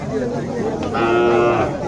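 A six-toothed cow, nine months pregnant, lows loudly and close at a busy cattle market in Naogaon, giving one long sustained moo over the murmur of people talking nearby.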